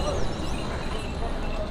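Horses and donkeys plod along the Kedarnath trek trail, their hoof clip-clop steady and close amid constant outdoor bustle and background voices for under two seconds.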